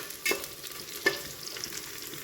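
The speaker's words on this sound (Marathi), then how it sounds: "कांदा चांगला तळसून घ्यायचा तेलात।" Sliced onion frying in hot oil for chicken biryani, a soft continuous sizzle broken by two brief stirring scrapes, heard close and alone without voices.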